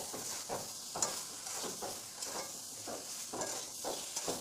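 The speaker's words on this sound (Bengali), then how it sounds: "এই যে সিদ্ধ করা সবজিটা দিয়ে দিলাম, দিয়ে এবার ভালো করে নাড়াচাড়া করতে থাকবো।" Boiled vegetables sizzle and fry in a pan while being stirred, soft rhythmic scraping strokes repeating about every half second over a quiet, steady hiss.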